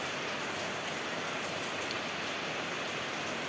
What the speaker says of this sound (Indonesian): Suaranya agak gitu geng ya, karena hujan.